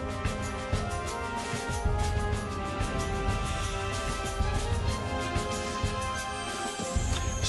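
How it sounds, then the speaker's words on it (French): Dense, full theme music for the 30th Lauriers de l'audiovisuel awards ceremony, playing steadily and fairly loud with a thick, continuous mix and no voices over it. "Ce que vous entendez, c'est le générique de la cérémonie des lauriers de l'audiovisuel."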